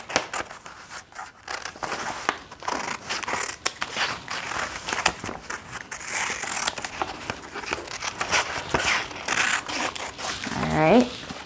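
Scissors snip and crinkle through paper while cutting out a bunny shape, a busy series of close crackling cuts and rustles running throughout, with a person talking over it.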